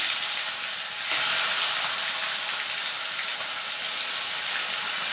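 Koi fish dropped into hot oil sizzles loudly and steadily up close, with a brief surge partway through.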